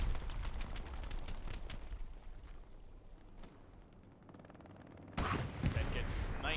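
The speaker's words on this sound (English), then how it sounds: "Ted gets sniped and then obliterated by a tank shot." Gunfire and heavy explosive shots from the WWII video game Hell Let Loose, distant rifle cracks and booming blasts rumbling under quiet battle ambience, ending in a loud close tank blast.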